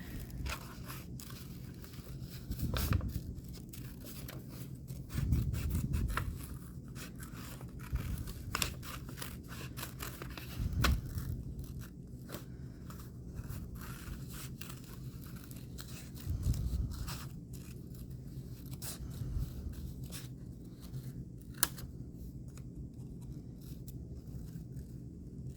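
Scissors snipping through paper to cut out craft shapes, a cloud and a pot for a St. Patrick's Day project, giving a quiet close run of intermittent crunchy cuts with pauses between strokes, no voices.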